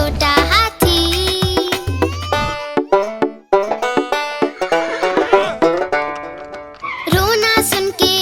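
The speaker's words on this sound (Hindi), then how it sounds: "रोना सुन के घोड़ा आया, साथ में अपने वो गाड़ी लाया।" Horse neighing in a Hindi children's rhyme, several loud whinnies that rise and fall through a musical backing.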